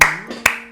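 Two sharp hand claps ring out about half a second apart, close and bright with a short room decay, against a faint background tone.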